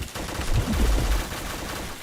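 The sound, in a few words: gunshots in a video game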